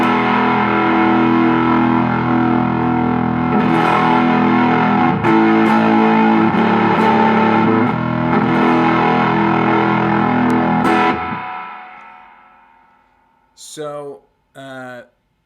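A heavily fuzzed electric guitar roars through a germanium Fuzz Face pedal into an amp, thick and saturated with chords ringing as the volume is cranked, then fades out before a short voice at the end.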